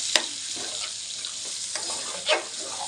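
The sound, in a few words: mixing mango pieces into chicken curry in a pan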